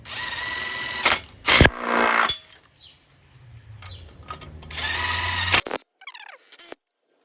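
An impact wrench hammers head bolts down on a Briggs & Stratton single-cylinder lawn tractor engine in short, sharp bursts, with quiet handling sounds between them.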